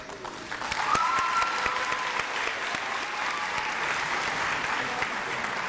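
Steady applause from a graduation ceremony crowd at East High School, dense clapping sustained throughout at an even level after a brief build at the start.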